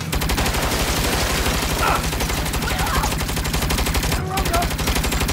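Rapid automatic fire from a mounted turret machine gun in the video game Saints Row The Third, a dense continuous rattle of shots that runs loud and steady through the whole stretch, with a brief spoken word near the end.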